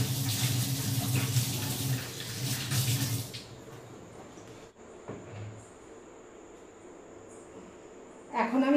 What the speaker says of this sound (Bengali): আমি না চিকেনটা খুব ভালো করে ধোবো